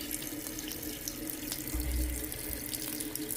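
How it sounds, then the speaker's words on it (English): A faucet in a hotel bathroom at the Wyndham Grand Cancun runs steadily into the sink, a close, even rush of water with no voices. "let's test out the water pressure."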